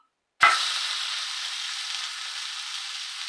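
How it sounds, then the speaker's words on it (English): Sous vide T-bone steak hits a hot pan with a sudden loud sizzle, then settles into a steady, bright searing hiss that holds for several seconds with no talking. "Sear this one up."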